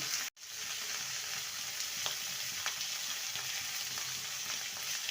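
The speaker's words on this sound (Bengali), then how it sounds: "ভালো করে সবজিগুলোকে ভেজে নেব" Vegetables for a drumstick curry fry steadily in a pan with turmeric and salt, giving a dense, even sizzle that holds at close range throughout after a brief silent gap at the start, with no talking.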